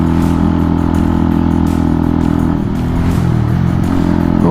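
A 125cc motorcycle engine drones steadily and loudly while riding, a continuous close hum with slight variations in pitch and no speech.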